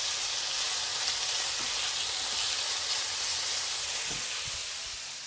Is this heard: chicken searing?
yes